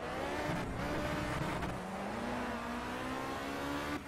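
Race car engine in the video game Project CARS, a continuous loud engine drone that drops in pitch as the car downshifts and brakes hard, then holds steady, with no voices.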